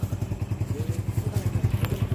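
Motorcycle engine idling steadily nearby, a regular low thumping pulse with light clatter throughout and a faint voice under it.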